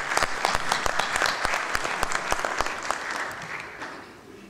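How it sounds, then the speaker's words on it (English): Audience applause at the opening ceremony of a crystallography conference, dense steady clapping from a seated crowd with a few sharp louder claps standing out, tapering off near the end. "nous allons les applaudir"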